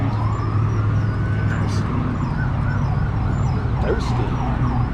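A distant siren wails steadily under constant traffic rumble and outdoor noise, rising and falling faintly in the background.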